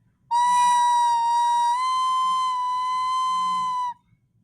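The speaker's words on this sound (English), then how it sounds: "If your recorder is squeaking and making a squeaking sound" A recorder held with a poorly covered hole gives a single shrill, sustained squeak from the air leak, lasting several seconds at a steady pitch before it stops.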